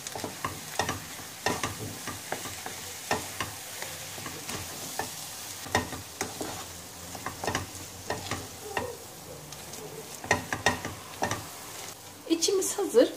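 A spoon stirs mashed potato filling seasoned with black pepper, red chili powder and salt in a pan, giving steady rhythmic scraping and soft sizzling strokes close by, growing a little louder near the end, with no voices.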